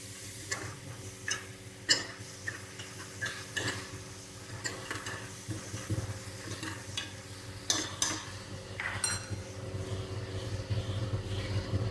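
Onions for boti curry are stirred and fried in a pan, with a steady sizzle under repeated scraping and clinking strokes of a spoon at an irregular rhythm, close by.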